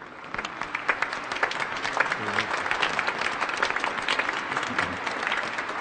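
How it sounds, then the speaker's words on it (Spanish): Warm applause fills a church as a bishop is welcomed at Mass, a dense, steady crowd of clapping hands that carries on for several seconds with a faint murmur beneath. "Le damos un caluroso aplauso."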